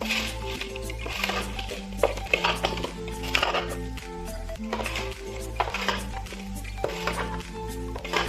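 Mango pieces being mixed with salt, turmeric and oil for pickle in a metal vessel, a steady run of scraping clinks and wet squishing knocks repeating throughout at close range.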